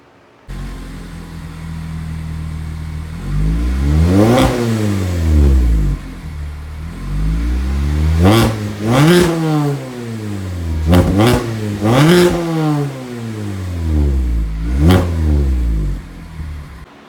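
A Mazda ND Miata engine fitted with a new Goodwin Racing exhaust header idles then revs repeatedly, several sharp rising and falling bursts, loud and close, with a raspy exhaust tone.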